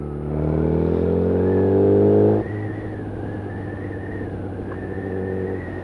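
A litre-class motorcycle pulls in fifth gear at around 40 km/h on half throttle, its engine note rising steadily then easing off into a steady cruising drone with road rumble, close and loud throughout.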